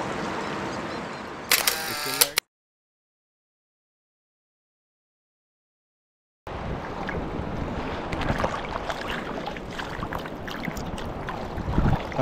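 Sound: camera shutter taking photos

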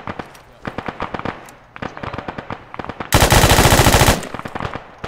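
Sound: rifle gunfire in the video game Arma 3

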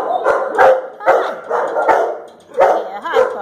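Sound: dog barking

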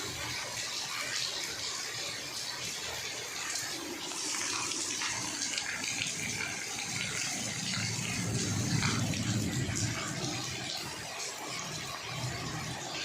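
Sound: heavy rain pouring and water flowing in fields

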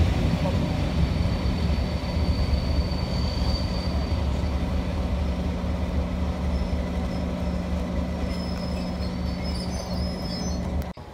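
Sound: BR Class 37 locomotive train arriving at station

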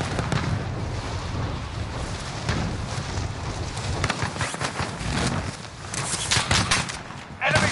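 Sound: gunfire from video game soldiers shooting at enemy

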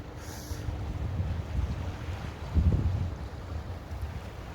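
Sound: cold wind at the West Sea coast

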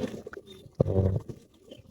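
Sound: pet pigeons cooing

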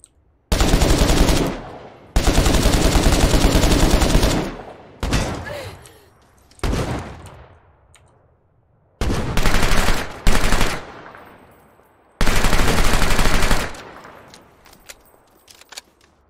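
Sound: gunfire in the video game The Culling 2

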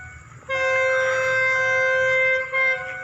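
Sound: train passing, express train 638 with locomotive

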